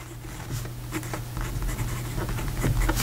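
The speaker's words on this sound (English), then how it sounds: "here we go with the writing sample for the TWSBI" A TWSBI GO fountain pen with a medium steel nib scratches across paper in short strokes, a close, steady scritching with faint rhythmic pulses and no talking.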